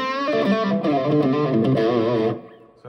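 Telecaster electric guitar chords through a Line 6 POD Go with Boss overdrive, a gritty overdriven tone, played loud and sustained for a couple of seconds before cutting off abruptly.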